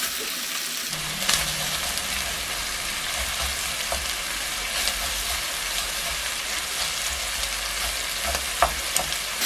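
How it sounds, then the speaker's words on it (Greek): Chopped onion sautéing in a frying pan with lamb preparation: a steady, close sizzle and hiss throughout, with occasional stirring scrapes and clicks. "Θα συνεχίσω το σοτάρισμα ώσπου να μαραθεί καλά το γκρεμίδι."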